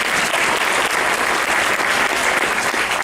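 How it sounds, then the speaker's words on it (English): An audience at a Community Associations Institute talk breaks into steady, dense applause, a loud continuous wash of many hands clapping with no voices over it. "Give her a round of applause."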